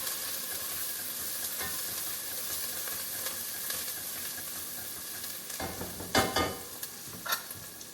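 Seafood rice is stirred in a hot pan with a continuous sizzling hiss, and a few louder scraping strokes from the stirring come near the end.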